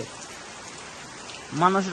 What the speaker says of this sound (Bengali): এমন বৃষ্টি লাগাতার পড়তেই আছে।